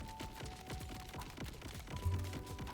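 Rapid gunfire from a weapon in Borderlands 4, a quick run of repeated shots at a steady rhythm, moderately faint, with a louder burst near the end.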